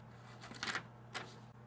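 Scissors snip through the fabric of an in-the-hoop embroidered luggage tag near the stitching, two faint, short crisp cuts in a quiet room.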